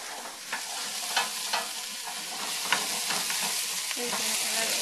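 Carrots and vegetables for a vegan potato and cabbage soup get stirred in a pot, a steady close sizzle broken by several soft scraping strokes of a spoon.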